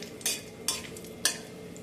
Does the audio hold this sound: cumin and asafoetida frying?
yes